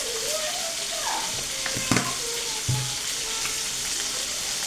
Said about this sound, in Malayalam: മഞ്ഞൾപ്പൊടി ഇളക്കി കൊടുക്കുന്നത്.